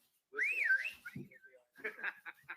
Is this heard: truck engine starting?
no